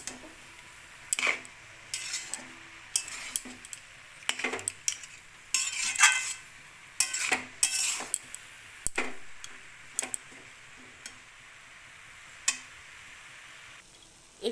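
Grated carrot for carrot halwa being stirred in a pan, with intermittent scraping and clinking of a spoon against the metal and a faint sizzle underneath, in close, irregular strokes without talk.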